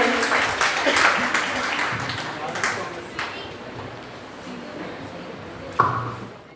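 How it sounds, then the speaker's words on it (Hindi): Audience clapping welcoming new teachers onto the stage at a Teachers' Day picnic programme, a loose scattering of claps with a few sharper hits, heard under and between an announcer's voice. "तो तालियों के साथ प्लीज एक बार स्वागत कीजिए"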